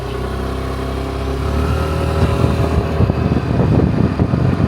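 A scooter engine hums close by as the rider sets off, its drone swelling and growing rougher as it picks up speed.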